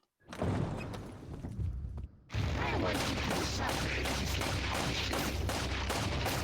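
Gunshots hit a boss in Resident Evil 4 VR. A loud barrage of weapon fire breaks off briefly, then resumes as a steady, heavy stream of shots to the end.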